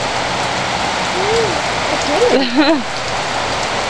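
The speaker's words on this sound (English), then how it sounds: "Can you see how much it's raining?" Heavy rain from an October rainstorm in Portland pours steadily in a constant hiss, with a voice briefly speaking over it.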